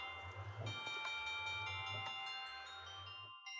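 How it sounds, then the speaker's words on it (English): Bright chiming Christmas bells from a video game jukebox ring out in a steady melodic pattern, moderately loud, then stop abruptly. "Got some Christmas bells playing."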